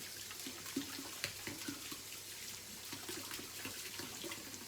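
Water runs steadily from a tap into a sink, a soft continuous splashing hiss, fairly quiet.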